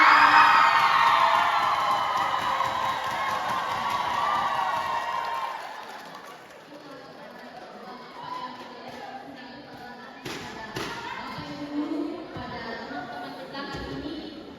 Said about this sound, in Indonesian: Ya, tepuk tangan untuk paslon.